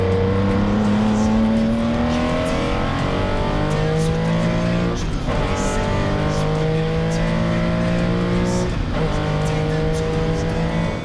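Several loud 1950 to 1965 racing cars roar and rev continuously at close range on the Spa track, engines rising and falling in pitch as they pass by.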